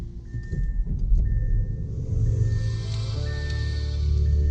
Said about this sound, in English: So let's start this car,